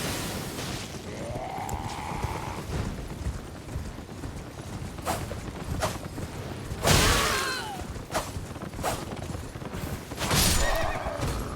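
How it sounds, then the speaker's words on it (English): A horse in a video game whinnies several times and clip-clops away, with hoofbeats, shrill neighs and mechanical clunks sounding loud and close. "Run free now, horse."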